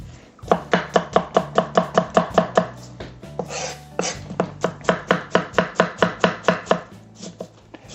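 A knife julienning daikon radish on a cutting board for kimchi, a fast even run of crisp chops, about three per second, pausing briefly midway before resuming, close and loud with no talking.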